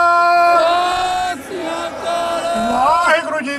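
Crowd voices shouting a Sikh jakara war cry at a farmers' solidarity gathering in Hamburg, Germany, with sustained overlapping chanted tones rising and falling across the whole span, loud and close.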